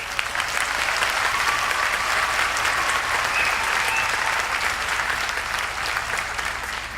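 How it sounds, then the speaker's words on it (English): Crowd at a 2018 Groves High School graduation ceremony giving a steady, loud round of applause, dense and even throughout with no pauses. "Let's give them another round of applause, please."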